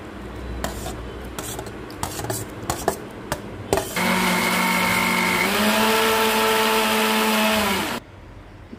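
Kitchen mixer grinder blends cooked arai keerai spinach in one loud, steady whirring run of about four seconds that stops abruptly, after a few clicks and knocks as the jar is set up.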